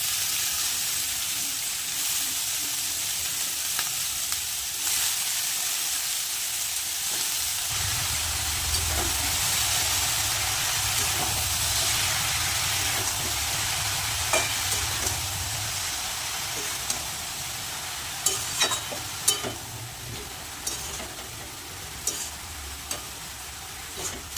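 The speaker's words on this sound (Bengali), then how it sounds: "এবার কেটে রাখা বাঁধাকপি আর আলুটা দিয়ে দেবো" Chopped cabbage and potato hit a hot pan and sizzle with a steady, close hiss, broken by stirring scrapes and clinks toward the end.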